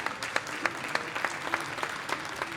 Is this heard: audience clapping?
yes